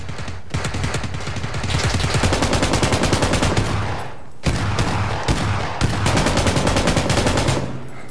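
Sustained automatic gunfire in PUBG, dense rapid bursts with a brief pause near the middle before firing resumes, loud and close with no talking.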